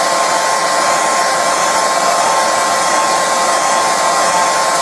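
A hair dryer blows a loud, steady whoosh with a constant motor whine, drying wet acrylic ink on a watercolour painting of teasels and honesty, with no voices over it.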